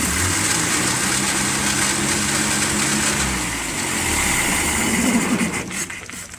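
A Land Rover Series 2A engine runs steadily up close with a rough, buzzy idle, dipping briefly in the middle and then surging before easing off near the end.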